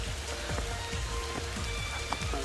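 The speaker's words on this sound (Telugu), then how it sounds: "వర్షం వస్తుంది" Rain falls steadily in dense forest at Maredumilli near Amruthadhara Waterfalls, a constant soft hiss with scattered nearby drips and patters landing on surfaces.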